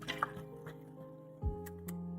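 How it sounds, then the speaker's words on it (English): Water poured into a Hydro Flask bottle indoors, a short wet filling and dripping sound with a few soft splashes, close and quiet against a low background hum. "You hear that? That's the sound of water."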